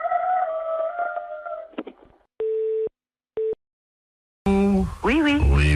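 A rooster crows down a telephone line during a French radio prank call, loud and compressed with a phone-line tone. A brief voice and two short beeps come first, then the crow sweeps in at the end.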